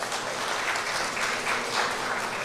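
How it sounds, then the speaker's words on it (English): An audience at a San Fernando Arts Council Sanfest launch event breaks into a warm round of applause, steady dense clapping that carries on without pause. "give yourselves a round of applause"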